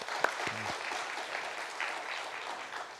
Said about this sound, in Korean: 제 생각에 동의를 하시는 분들은 다시 한번 박수해 주시면 감사하겠습니다.